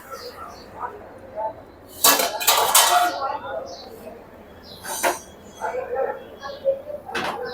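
A lid comes off a pan on the stove where garlic aayte pancakes cook on a griddle, giving a loud metallic clatter and scrape in the middle, then lighter clinks of cookware over a quiet background.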